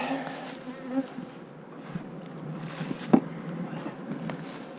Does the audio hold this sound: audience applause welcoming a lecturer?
no